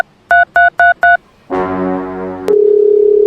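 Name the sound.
telephone dialing tone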